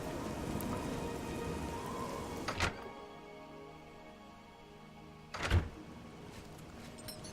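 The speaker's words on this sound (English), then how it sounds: "it was raining briefly inside then and something broke." Steady rain patters in the game Oblivion, then fades to quiet as two short sharp knocks punctuate the scene, one early and one later.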